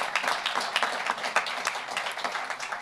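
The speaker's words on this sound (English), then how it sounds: "Let's give them all a nice round of applause." Crowd applause at a hall of fame induction night, a dense, steady patter of many hands clapping throughout, fairly loud and close with no talking over it.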